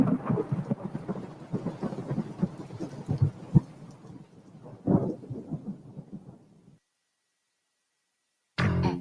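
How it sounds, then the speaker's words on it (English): Rolling thunder from a storm rumbles for several seconds as a sound effect in a parody car commercial, with crackling bursts, a sharp clap midway and a fade into silence before a brief final burst. "after you get struck by lightning, there's thunder"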